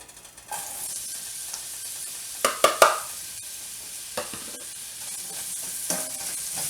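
Onions sauté in a pan over medium heat with a soft, steady sizzle, broken by a quick cluster of utensil clatters and a couple of later taps.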